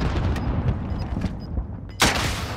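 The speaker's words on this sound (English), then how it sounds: "Rocket away!" A rocket explodes in a Call of Duty Warzone match, landing as a sharp, loud blast near the end, after a stretch of dense, rumbling gunfire and booms.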